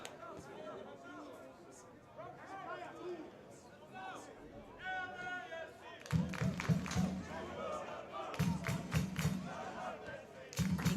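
Home crowd at an LAFC 2 soccer match, a steady murmur of chatter and shouts with rhythmic thumping drum beats and music in the stands, heard under a commentator's voice.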